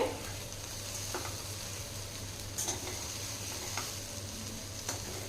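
Soya chunks frying and being gently stirred in a pan over low heat for soya chunk fried rice, a soft continuous sizzle broken by a few light scraping clicks of the spoon.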